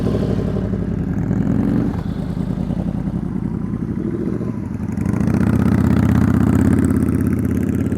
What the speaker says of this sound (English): Bring your throttle speed up just a little bit.